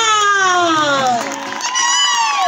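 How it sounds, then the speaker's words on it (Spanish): A crowd cheers and whoops at a serenade festival for the Virgin of the Rosary in Iruya, Salta, with many overlapping voices rising and falling loudly for a couple of seconds. "Fuerte los aplausos para Silvana Álvarez"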